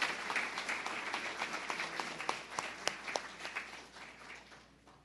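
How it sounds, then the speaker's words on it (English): Audience applause at a graduation ceremony for an adult literacy class, a steady patter of many hands clapping that fades out toward the end. "Round of applause, everyone."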